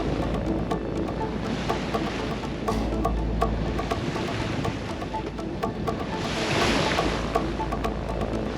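Steady rush of rough ocean waves and wind around a sailboat near a reef, continuous and fairly loud, with a surge of spray swelling midway.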